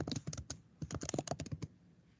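Rapid, heavy typing on a computer keyboard, a close burst of sharp clacking keystrokes in uneven clusters that slows and trails off near the end, with no voices over it.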